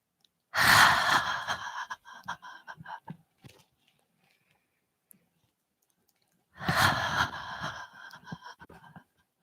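Two long, deep breaths during a qigong standing exercise, each a loud close rush of air lasting about a second and trailing off in softer breathy bursts, separated by several seconds of near silence.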